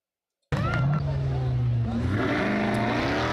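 A Dodge Durango Trackhawk drag races a Honda Accord, the engines bursting in loudly after a brief silence and roaring with rising, shifting pitch as the vehicles accelerate.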